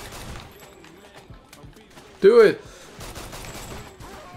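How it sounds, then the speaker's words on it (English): Gunfire in the video game 50 Cent: Blood on the Sand, scattered shots and bursts crackling under game voices, including one loud shout. "just standing still while there are bullets raining down"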